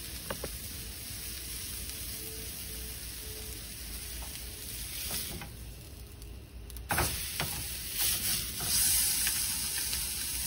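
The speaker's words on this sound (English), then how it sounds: "this is very high heat, so we're only searing and not cooking" Filet mignon sears in a very hot pan with a steady, dense sizzle and crackle, close and loud, with occasional scraping or shifting noises.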